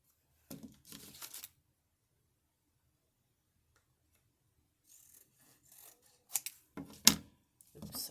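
Paper being cut with scissors for a junk journal craft: a few quiet, short rasping snips near the start, a long silence, then several more scattered cuts close by. No talking.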